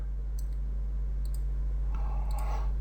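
A computer mouse gives a few light, quick clicks in pairs over a constant low hum, close and quiet, with no talk.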